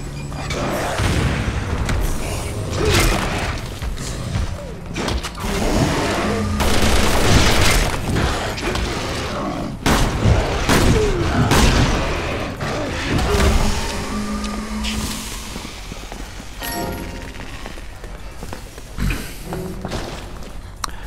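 Explosions and rapid bursts of gunfire from a combat video game, with loud booms and crackling blasts dense throughout and heavy low rumble, scattered mechanical clanks between hits.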